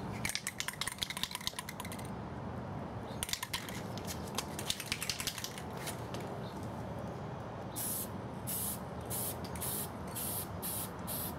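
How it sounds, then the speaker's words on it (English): An aerosol can of dull coat matte spray hisses in short, close bursts, first quick and choppy, then several longer sprays separated by brief pauses near the end. "what I'm going to do now is spray dull coats"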